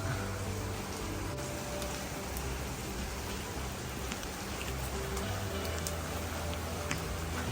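Rain falls steadily outdoors where red lotus seedlings are being sprouted, a constant dense hiss that never lets up, with no voices over it.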